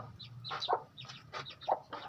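Hens cluck in short, soft bursts, with a few clearer calls standing out, close by against a low rumbling background; a hen dust-bathing in soil.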